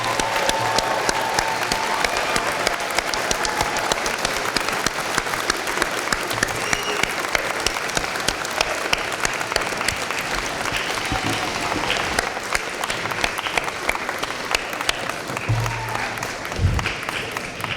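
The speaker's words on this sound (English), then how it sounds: "guests, join me in one final round of applause" Steady, dense applause fills a school gym at an honor society induction ceremony, a crowd clapping continuously and evenly for the whole stretch with no voices rising above it.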